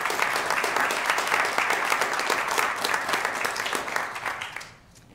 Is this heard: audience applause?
yes